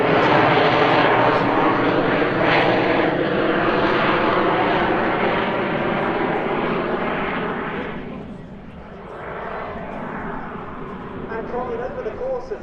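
Jet Pitts S2S aerobatic biplane with added jet engines performing a display at Sanicole 2024, a loud sustained engine roar that swells and dips as the aircraft maneuvers, with a commentator talking over it.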